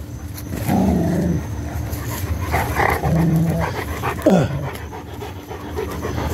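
A dog growls low and pants heavily while playing with a soccer ball outdoors, the rough growls and quick breaths close and fairly loud, with a short yelp near the end.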